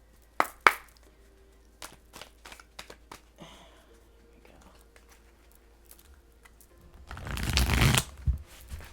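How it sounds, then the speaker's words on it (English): Scattered taps and light clicks, then a dense burst of tarot cards from the Rain Shadow Tarot deck being riffled and shuffled near the end, loud and close. "I'll give it one more shuffle."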